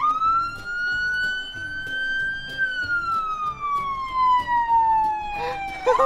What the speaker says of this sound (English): Yeah, that's the siren.